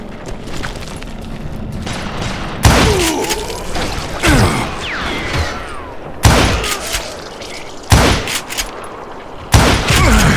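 Loud gunfire in the western shooter game Call of Juarez Gunslinger: heavy booming shots every second or two over a busy game soundscape, with ricochet-like whines and shouting voices between blasts.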